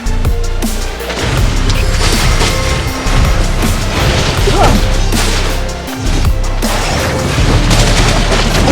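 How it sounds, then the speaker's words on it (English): Turret destruction in the mobile game Mobile Legends, heavy booming and crashing impacts over dense battle effects, loud and continuous with a few sharp hits. "Your team destroyed a turret!"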